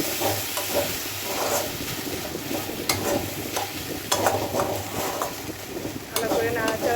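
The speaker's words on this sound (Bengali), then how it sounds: "ভালো করে নাড়াচাড়া করে এবার এটাকে নামিয়ে নিতে হবে।" Cooked taro flower ghonto stirred in a pan: repeated spoon scrapes and clacks against the metal over a continuous sizzling hiss, with a low murmuring voice underneath.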